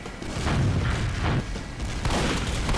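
Rockets in Team Fortress 2 burst in a quick run of heavy, booming explosions, several thuds in under three seconds, loud and close amid game noise.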